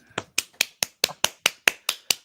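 A slow, even round of about ten sharp, close claps applauding Anthony, each hit crisp and evenly spaced with no talk over it.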